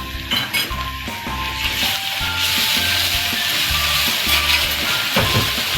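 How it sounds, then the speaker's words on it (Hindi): Ginger garlic paste fries loudly among browned onions in a karahi, a dense steady sizzle with metal spoon scrapes and clinks against the pan, close up and with no talk. "ये हम अदरक लहसुन का पेस्ट डालेंगे"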